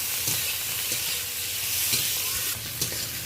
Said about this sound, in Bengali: এইটা 3-4 মিনিট ধরে বেশ ভালো করে নরম হওয়া পর্যন্ত টমেটো পেঁয়াজ ভালো করে নেড়ে নেব।